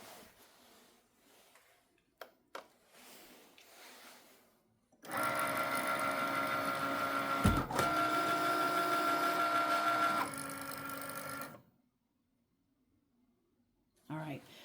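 A Cricut Maker cutting machine runs loud and steady for several seconds as it cuts paper, then stops abruptly into silence, with faint handling sounds before and after.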